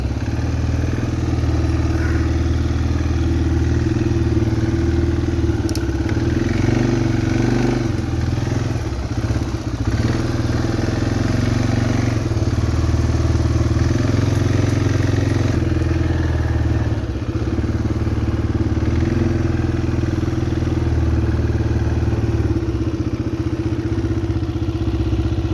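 ATV engine running steadily while riding across rough farm ground, a loud continuous mid-pitched drone with occasional clatter and thumps from bumps, heard up close for the whole stretch.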